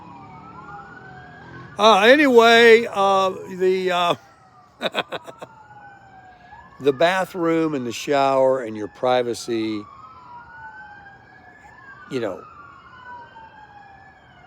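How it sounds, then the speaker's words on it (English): Wailing emergency vehicle sirens sweep up and down steadily outside, moderately loud and continuous beneath intermittent indoor conversation, with a brief louder swoop near the end. "I got the sirens."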